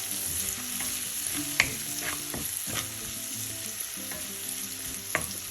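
A pinch of turmeric powder hits hot oil in a pan for a spinach and lentil thoran, giving a steady close sizzle broken by a few sharp spoon taps and scrapes.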